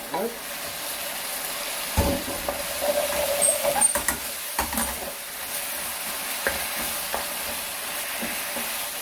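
Vegetables hit a hot pan of pork and mushroom bulgogi with steady close sizzling and frying, broken by scraping stirring strokes and brief bursts of louder crackle, with no talking.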